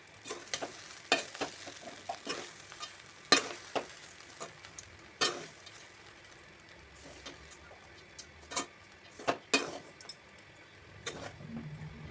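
Scraping and clinking of a spoon stirring curry leaf rice in a pan, irregular strokes at close range, over a faint background hiss; no talking.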